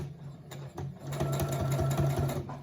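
A Brother XR9500PRW sewing machine stitches in reverse, making a close, steady mechanical whirr with a fast needle rattle that speeds up partway through the short run.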